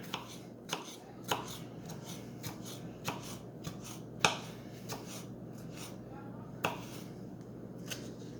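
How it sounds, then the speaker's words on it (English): A knife cutting a tomato on a board: a string of uneven, sharp taps and crunches, close and fairly quiet, spaced irregularly over a soft background. "our tomato look like it needs a little piece more, so I'm cutting just a little piece more"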